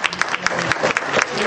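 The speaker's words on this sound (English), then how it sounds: "let's give them a hand clap" Congregation hand clapping in a church service, a close, lively burst of individual claps with distinct sharp hits over a fuller crowd wash, brief and energetic.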